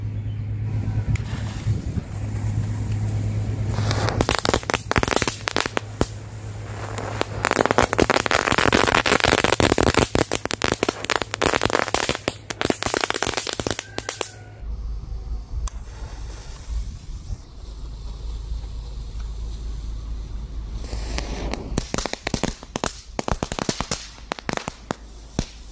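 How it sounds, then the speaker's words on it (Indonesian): Large "telur komodo" firecrackers set off in sand, bursting in dense, loud crackling volleys that run through most of the stretch, with a brief lull and a second rapid series near the end. "Yang pertama kita cobain petasan telur komodo. Kita coba main di dalam pasir."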